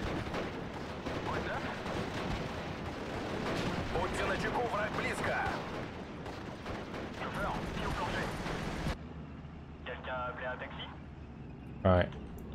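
Gunfire and artillery crackle in the WWII strategy game Steel Division: Normandy 44, with dense overlapping shots under someone talking. After a few seconds it drops to quieter battle noise, then one sharp report.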